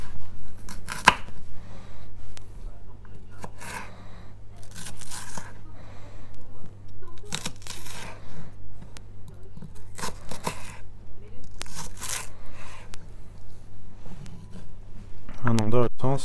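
A knife slicing carrots lengthwise on a cutting board while preparing a vegetable base for meatballs in tomato sauce, irregular soft crunching cuts over a steady low hum, with someone talking throughout.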